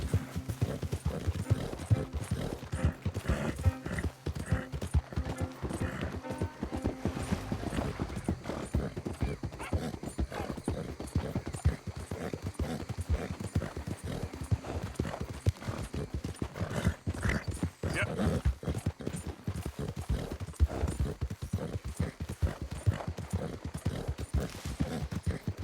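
Horse hooves clip-clop continuously at a steady gait in the Red Dead Redemption 2 open-world western game, with an occasional neigh amid the dense, busy hoofbeats heard up close.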